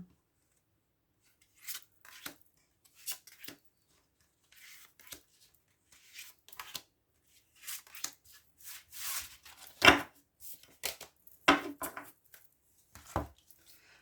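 Cards shuffled and drawn for a tarot-style reading: soft, sporadic riffles, slides and flicks of card stock, close and fairly quiet, with short pauses between handling sounds.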